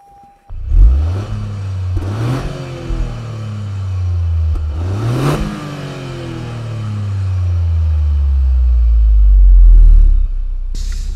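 A 2021 Toyota GR Yaris engine revs hard while driving, climbing repeatedly through the gears with sharp rises and drops in pitch, loud and close, building to a deep roaring pull near the end with no talking.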